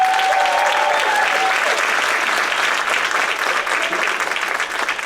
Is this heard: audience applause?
yes